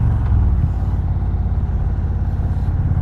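A 2021 Indian Roadmaster motorcycle engine accelerating, a loud, close, continuous low rumble that holds steady throughout without a pause.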